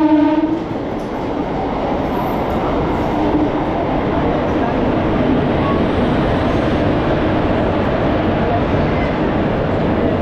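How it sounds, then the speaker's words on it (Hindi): Train arriving at a station on a Surat to Jhansi journey: a steady, loud rumble of rolling railcars with faint rhythmic clatter, plus a brief horn-like tone at the start. "अभी हमारी ट्रेन फाइनली आ चुकी है"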